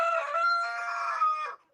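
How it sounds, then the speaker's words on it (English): A rooster gives a single loud, close crow that holds for about a second and a half and then trails off abruptly. "we have a rooster"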